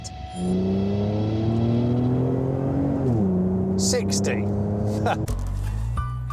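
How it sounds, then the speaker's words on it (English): Sports car engine with an aftermarket exhaust drones and climbs in pitch as it accelerates, a deep exhaust note close by, with a brief spoken word over it. "You can tell this has definitely got a different exhaust fitting, because the standard exhaust was just a bit too quiet."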